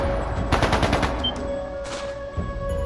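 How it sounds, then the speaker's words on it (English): Bursts of gunfire from the PS5 game The Legend of Heroes: Trails of Cold Steel II, a rapid volley of loud shots followed by a second, shorter burst over a steady background drone. "That sounded like gunfire!"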